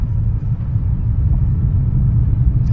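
A Mahindra XUV300 petrol W6 AMT drives over potholes, a loud, continuous low road rumble with no pauses and no talk.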